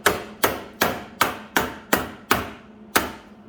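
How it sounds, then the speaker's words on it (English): A claw hammer strikes down high spots on a lap weld on a 1953 Chevy truck, seven sharp metallic blows at a steady, roughly half-second rhythm, close and loud with short ringing decays. "Now take your claw hammer,"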